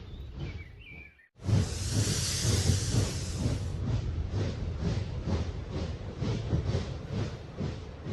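A train rolls past in a rail yard in the Thomas the Tank Engine film, bursting in loudly after a brief lull with a rush of steam hiss that settles into a steady, rhythmic clatter of wheels.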